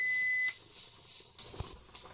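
A single steady electronic beep sounds from a stove during a pressure canning session, lasting about half a second before cutting off, followed by faint hiss and soft kitchen handling noises.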